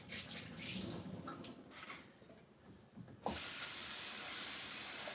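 Kitchen tap water gushing into a sink for a quick rinse before poaching eggs, starting after a few seconds of quieter clatter and then running loud and steady to the end.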